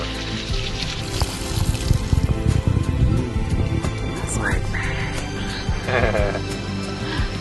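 Water splashes and trickles as it is poured out, with voices talking over it and a higher squeaky sound partway through.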